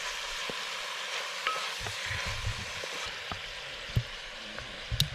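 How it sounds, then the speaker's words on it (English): Chopped onions browning in a hot pan, stirred with steady scraping and a continuous sizzling hiss, punctuated by sharp utensil clicks and taps near the end. "Good to mix up your onions."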